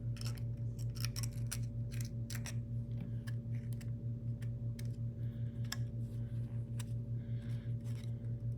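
Small snips cut and trim a plastic part from a Hack Fab Mini-B sprint car kit, faint irregular clicks and crisp snips over a steady low electrical hum.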